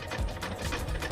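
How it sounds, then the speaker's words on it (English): A walking-foot sewing machine stitches strips of tough rubber inner tube with a steady, fast mechanical whir and rhythmic needle thumps, close and continuous. "The walking foot on the sewing machine guides the tough rubber under the needle, which ensures a tight, even seam."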